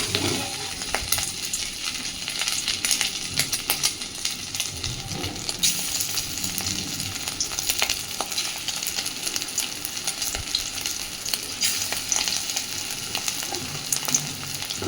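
Pieces of beef fat sizzle and crackle steadily in a little hot oil in a pan, a continuous close frying hiss with scattered pops and small clinks throughout, no voices.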